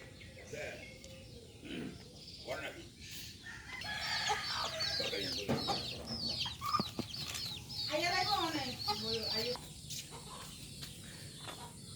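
Chickens clucking and a rooster crowing near a small village chicken coop, several birds calling close by in bursts under intermittent talking.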